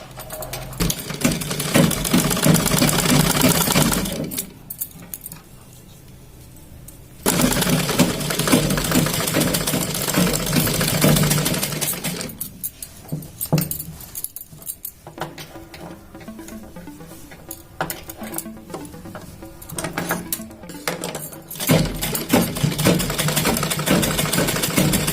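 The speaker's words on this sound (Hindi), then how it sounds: "इस तरह से हम सिलाई यहाँ से स्टार्ट कर देंगे" Domestic sewing machine stitching a baby cap, its fast mechanical chatter running in long bursts with short pauses between seams, close and fairly loud, with no talking.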